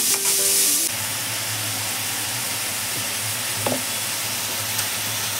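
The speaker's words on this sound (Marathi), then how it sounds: "चांगला कांदा गुलाबी होईपर्यंत ग्रेव्ही करायची आहे ना आपल्याला." Onions frying in hot oil with garam masala for a gravy, giving a steady, close sizzle that runs throughout with a brief stir partway through.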